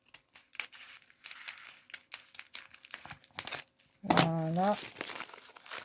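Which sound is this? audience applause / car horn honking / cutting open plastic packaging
cutting open plastic packaging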